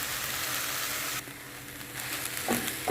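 Egg, spinach and chorizo fried rice ingredients hit a hot pan and sizzle loudly and steadily, with a brief dip and light stirring scrapes toward the end.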